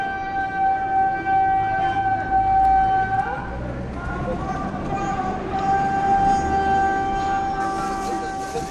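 The call to prayer in Tadjourah is relayed between mosques as a wavering, sustained amplified chant over loudspeakers, rising and falling steadily across a busy, noisy outdoor background.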